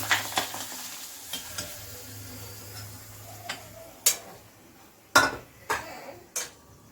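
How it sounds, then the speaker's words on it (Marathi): Pongé snacks frying in a pan of oil, with a soft steady sizzle beneath a few sharp clinks of utensils against the pan, heard close and fairly quiet with no talking. "आता मी संध्याकाळचा हलका नाश्ता म्हणून कोंगे तळत आहे"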